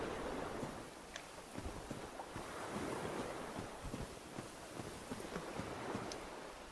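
Water waves wash and surge in a Dark Souls level, a steady broadband rush at moderate loudness with soft, irregular swells, alone without talk.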